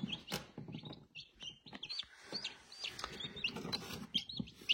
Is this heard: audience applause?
no